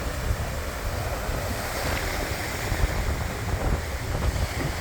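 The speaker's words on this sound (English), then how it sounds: "So we're under the trees hiding and watching this beautiful, beautiful surf." Heavy ocean surf pounds the shore at Playa Coral in a windstorm, strong wind roaring across the microphone in a steady, loud, broadband rush with no voices.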